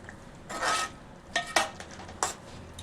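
Mutton curry with drumsticks is stirred in a pot with a ladle, giving a few scraping, clattering bursts of metal against metal with short pauses in between, close up and without talk.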